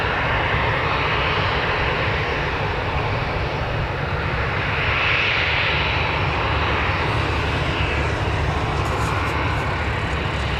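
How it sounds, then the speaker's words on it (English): A small propeller aircraft arrives at Newcastle Airport, its engine drone steady and loud throughout, a broad continuous roar with no voices over it. "they were just waiting for the little prop to come in"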